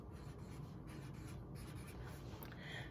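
Pencil strokes write numbers on a math worksheet, a steady, faint scratching and rubbing with short repeated strokes, heard close up.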